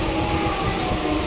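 An empty train standing at a platform gives a steady low rumble and hum, continuous and fairly loud, with no voices.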